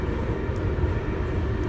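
A passenger train travels between Runcorn, Cheshire and Liverpool Lime Street, heard from inside as a steady low rumble and rolling hum of wheels on track.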